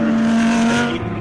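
Porsche and Lamborghini race cars running on a circuit at a regional extreme festival grand finale, a loud, steady engine drone with a sustained tonal whine that fades slightly near the end.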